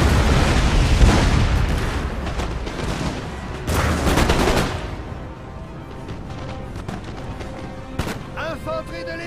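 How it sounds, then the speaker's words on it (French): Cannon fire and massed musket volleys in a Napoleon: Total War battle at Modena, loud booming blasts and crackling gunfire rolling together, fading toward scattered shots, with voices heard under the din. "Le canon est prêt, monsieur."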